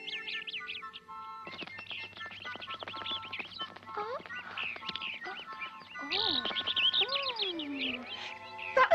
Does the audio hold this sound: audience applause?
no